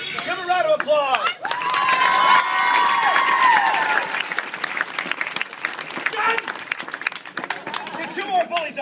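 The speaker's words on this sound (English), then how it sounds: "Give him a round of applause." Audience at a live comedy panel show applauding and cheering loudly for several seconds, the clapping fading into crowd murmur, with a voice speaking over it at the start and end.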